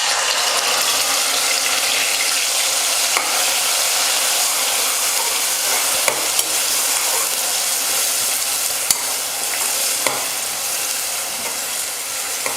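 Coarsely ground onion paste frying in hot oil makes a loud, dense, continuous sizzle, close and unbroken, with a few faint clicks from stirring and no voices.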